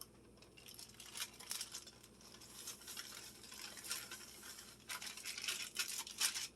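Chocolate cake batter mixed with dry cake mix in a bowl gives a faint, close scraping and swishing in irregular strokes, with no talking.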